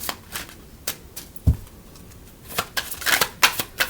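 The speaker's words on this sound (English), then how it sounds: "Be careful with the way I shuffle these things." Tarot cards being shuffled by hand, a series of sharp riffling snaps and flicks, sparse at first and then quicker bursts near the end.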